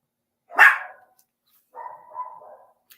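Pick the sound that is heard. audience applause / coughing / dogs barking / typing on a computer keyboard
dogs barking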